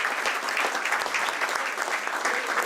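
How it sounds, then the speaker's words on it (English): A large crowd applauds steadily at the Niva Bupa Health Insurance listing ceremony. The clapping is dense and continuous, holds an even loudness throughout, and has no speech over it. "Can we have a huge round of applause for the entire team of Niva Bupa"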